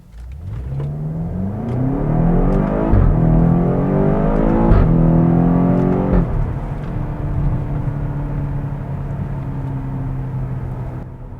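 A 2016 BMW X5M SUV accelerates hard from a stoplight with a loud, close engine roar that climbs through several quick upshifts, then eases into a steady cruising drone.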